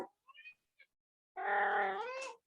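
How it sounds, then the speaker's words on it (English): A cat meows during an online tabletop role-playing game session, one drawn-out wavering meow after a few faint chirps, close and clear with no talk over it. "I hear your cat joining."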